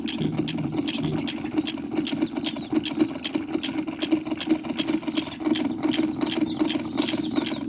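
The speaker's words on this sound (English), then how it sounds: "I could run this motor for a little while, but then it starts getting kind of warm." An electric motor running close by, a steady mid-pitched hum with a fast rattling, clicking texture that continues without a break.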